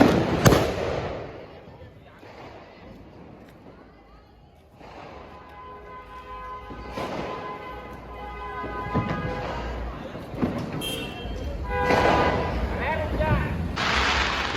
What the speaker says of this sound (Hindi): देख लो भानु भाई फोड़ने वाले हैं, आग लगाने वाले हैं